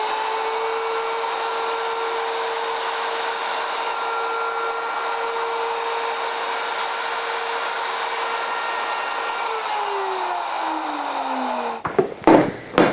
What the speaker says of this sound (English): I'm going to take my router and cut a little bit more off the width of that tenon